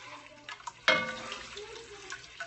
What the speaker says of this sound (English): So I'm just adding a little bit of water to it.